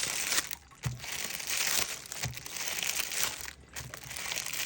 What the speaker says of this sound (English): And pardon all the plasticky sounds.